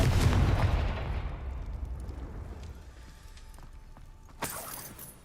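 A Confringo blasting curse goes off in Hogwarts Legacy, a loud broadband burst at the start that rumbles and fades over several seconds, followed by a second sharp crack near the end.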